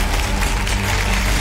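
Dense, steady applause from a studio audience on a Spanish television challenge show, filling the short moment loudly and evenly with no pauses.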